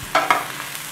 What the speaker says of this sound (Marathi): आपल्याला गवारी व्यवस्थित भाजून घ्यायची आहे.